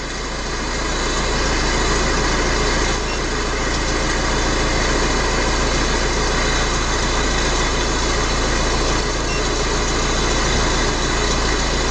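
A Mercedes-Benz Vito van engine idles steadily and loudly nearby, a constant low rumble with a faint mechanical whine, with no talking.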